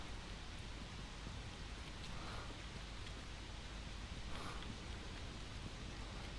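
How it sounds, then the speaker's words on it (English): Steady rain falling in the survival video game Hobo Tough Life, a continuous broadband hiss with soft patter, even and fairly quiet throughout with no voices. "It's raining again. Wow. It's literally raining every single freaking day."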